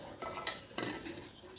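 A spoon scooping chutney in a bowl, giving three quick scraping clinks of metal against the dish, close and fairly quiet.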